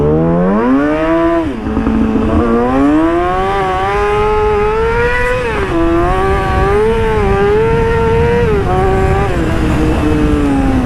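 A Yamaha R6 sport bike with its muffler removed roars loud and close, the engine note climbing and falling through sustained revs while riding, with no talk over it.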